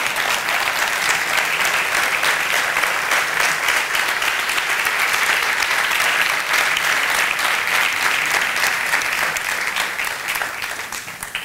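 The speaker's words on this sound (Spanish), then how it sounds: "Don Juan Francisco, un aplauso, enhorabuena" Sustained, dense applause from an audience at a business awards gala in Finestrat, 2017, steady and loud throughout, tapering slightly at the end, with no talk over it.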